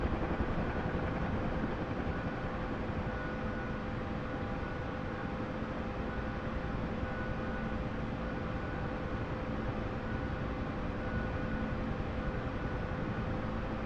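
A video game helicopter on a combat search and rescue mission drones loud and steady, its dense rotor and engine noise unbroken throughout with no voices.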